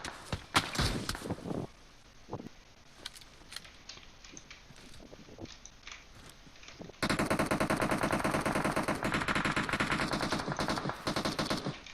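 Gunfire in the PUBG Mobile video game: scattered single shots and short bursts first, then a sustained loud rapid automatic burst fills the second half.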